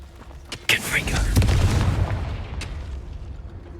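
In Hogwarts Legacy, a Confringo fire-blast spell goes off as one sharp burst followed by a loud booming explosion that rumbles for a couple of seconds, then fades away.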